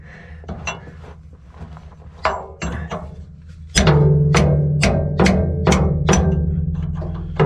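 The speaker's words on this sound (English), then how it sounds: "This is a good chisel, a cold chisel." A cold chisel struck with a hammer at a forge while breaking a tag off a Buffalo Forge, a series of loud ringing metallic blows in an uneven rhythm, close by and growing heavier partway through.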